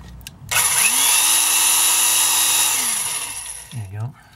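A power drill fitted with a depth stop bores into a Hot Wheels die-cast car, giving a loud, high whine that ramps up and holds for about three seconds before winding down, with a brief voice afterwards.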